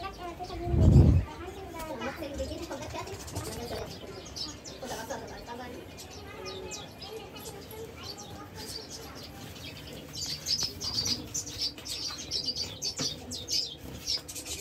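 Small yellow and orange birds chirp in a cluster of quick, high twitters, busier toward the end, over outdoor bustle with a brief loud thump early and people talking.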